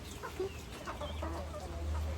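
Chickens cluck in a small flock near a village street, short scattered calls close by over a steady low background hum.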